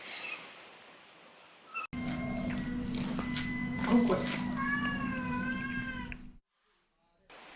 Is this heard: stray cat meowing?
yes